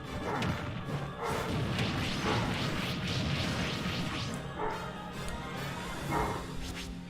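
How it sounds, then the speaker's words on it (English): Dogs bark in the background behind loud video-game sounds from Super Smash Bros. Ultimate, a few muffled woofs scattered through the clip among thumps and crashes. "I also don't know if you guys can hear dogs barking."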